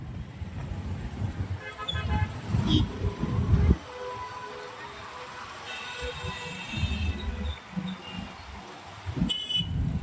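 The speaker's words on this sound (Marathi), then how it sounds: "भयानक ट्राफिक आहे" Steady road traffic rumbles while car horns honk in several short and longer blasts, some overlapping, close by, on a street in Latur.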